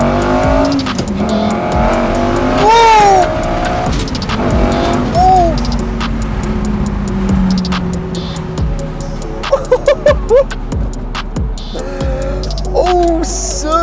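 A Lamborghini V10 with a manual gearbox revs hard and loud, with repeated climbing and falling engine sweeps, gear-change dips and sharp crackling pops near the end, heard from close by.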